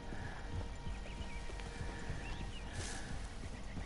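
Horse hooves clip-clop in a steady rhythm over a low background hum, with a brief whinny-like rise near the end, in the video game Red Dead Redemption.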